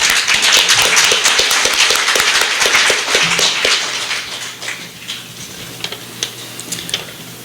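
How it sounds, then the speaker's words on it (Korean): A seminar audience claps to welcome a former intelligence chief to the podium, loud and dense at first, then thinning to a few scattered claps that fade away. "박수로 환영해 주시기."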